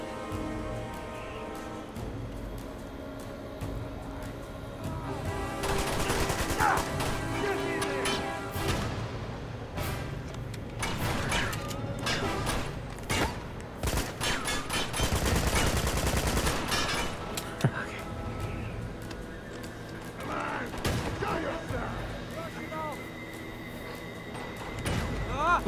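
Shotgun blasts and other gunfire in the video game Uncharted 2: Among Thieves, train-wreck chapter, come in scattered loud bursts over game sound and music, with a voice talking at times.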